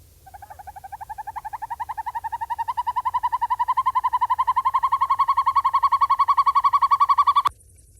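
A northern hawk owl gives a long, rapid trilling call of evenly pulsed notes, steady and close, gradually growing louder over about seven seconds before stopping abruptly.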